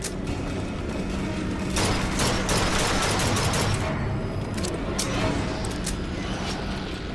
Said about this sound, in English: I understand the tactic of shooting in short bursts.